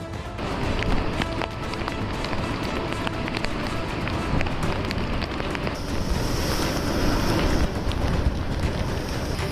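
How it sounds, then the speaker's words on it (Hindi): Cyclone Tauktae on the Arabian Sea coast: a loud, continuous roar of strong wind buffeting the microphone over crashing high sea waves, dense and unbroken throughout. "समंदर में उठती ये ऊंची ऊंची लहरें और शहर में घुसता इनका पानी"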